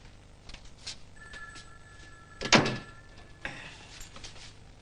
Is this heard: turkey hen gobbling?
no